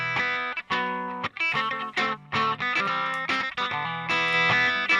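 Heavily distorted electric guitar plays short chugging notes and ringing chords in a choppy rhythm, loud and close with no voices.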